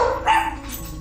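A pet dog barks in a short burst at a pair of fighting cats, the yapping bark close and fairly loud with a brief whimpering tail, no talk over it.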